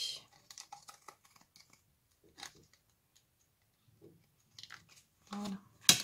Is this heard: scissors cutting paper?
yes